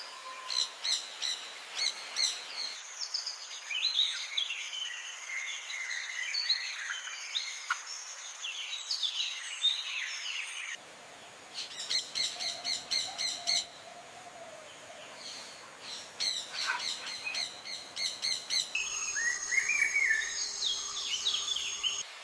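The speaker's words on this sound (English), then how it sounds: "Flying into number 6 is the gentle giant of the avian world, the stunning hyacinth macaw." A hyacinth macaw, the large South American parrot, calls in repeated bursts of chirping and whistling notes, mixed with other bird and insect sounds in a wild setting, with no speech.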